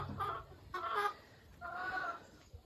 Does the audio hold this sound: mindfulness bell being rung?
no